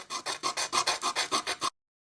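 Rhythmic rasping strokes of a Colt Single Action Army revolver bolt head rubbed flat on sandpaper, about ten even back-and-forth passes close up, then sudden silence.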